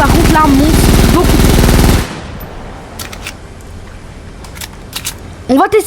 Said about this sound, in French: Alors on va d'abord essayer une balle dans le vide.